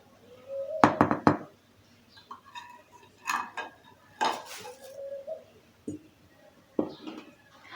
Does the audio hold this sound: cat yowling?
no